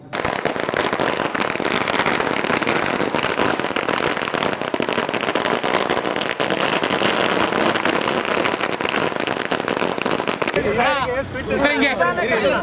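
Firecrackers burst in rapid, crackling strings during a victory celebration at Azad Park circle in the city, loud and continuous for about ten seconds, then people talk as the bursts stop.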